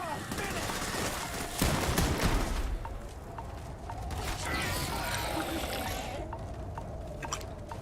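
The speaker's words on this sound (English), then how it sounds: "Like, this is a gun that sounds good, no matter what it's doing." Gunfire in Starfield: sharp, loud shots and mechanical clacks up front, followed by a few lighter repeated reports under a continuous game background, with a person talking over it.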